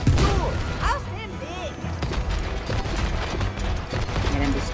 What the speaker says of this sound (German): Da kommt eine Kanonenkugel auf uns zu!